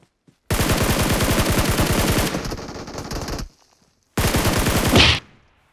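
Rapid automatic gunfire from a weapon in the mobile battle royale game PUBG Mobile: a loud sustained burst of about three seconds, a short pause, then a second burst ending in a sharp crack, with no talking.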